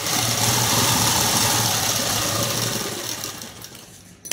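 A sewing machine stitches cloth for a prince cut dress, running steadily with a loud, even whirring hum up close, then slowing and fading to a stop near the end.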